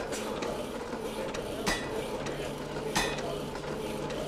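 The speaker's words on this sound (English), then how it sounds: "So we'll be using our Marvel draw cut saw here. Absolute beauty of a machine to cut that piece off." A Marvel draw cut saw, a 1908-style machine in a blacksmith shop, steadily grinds through a metal bar, with a continuous rasping cut broken by a couple of sharper clanks.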